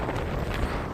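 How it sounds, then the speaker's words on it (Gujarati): Strong wind buffets the microphone outdoors, a steady broadband roar lasting about a second with no voices. "પવન બહુ છે આજે,"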